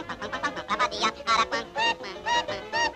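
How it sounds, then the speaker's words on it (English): The Aracuan bird from the Disney film sings its peculiar song, a rapid run of bright chirping, warbling calls in quick bursts that rise and fall, loud and close with no talking. "he's called the Aracuan because of the peculiar song he sings"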